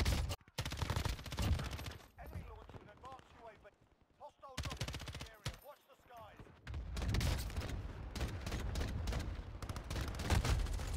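Video game gunfire bursts in rapid automatic volleys, with loud stretches of shots broken by brief quieter gaps and short bits of voice in between.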